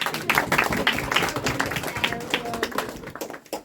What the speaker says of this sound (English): We will give him a clap.